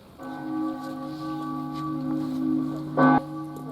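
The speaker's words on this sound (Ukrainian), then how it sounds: "Це дзвони, дзвони пам'яті." Memorial church bells ring at an anniversary of the Afghanistan war, a steady sustained tone that hums throughout, broken by one louder fresh strike near the end.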